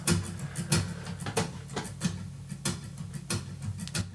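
Quiet, steady strumming mixed with sharp slaps on an acoustic guitar, played without a pick in a repeating rhythmic groove, heard in the right channel.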